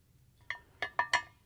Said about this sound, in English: I'm going to take my snips and trim it